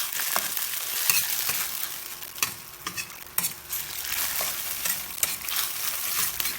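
Spicy tuna sisig sizzles in a hot pan as its liquid cooks off, a constant bright hiss broken by repeated scraping and stirring strokes, close and fairly loud with no voices.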